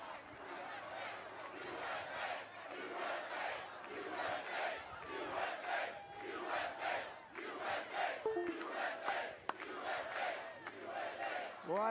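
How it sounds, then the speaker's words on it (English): A large crowd at a political rally cheers and chants in loud rhythmic surges that rise and fall for several seconds. "What an incredible crowd."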